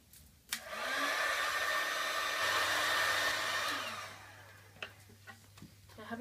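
A heat gun blows steadily onto a flat sheet of Worbla thermoplastic for about three seconds, a loud even airy roar that cuts off, followed by a few light handling taps and clicks nearby.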